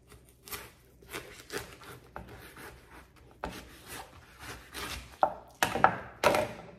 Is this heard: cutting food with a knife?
yes